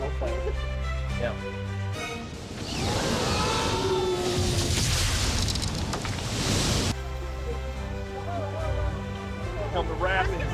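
Dollywood water ride plunging through rapids: a sudden surge of loud churning, splashing water with rushing turbulence for several seconds, bracketed by quieter ride noise and riders' voices before and after.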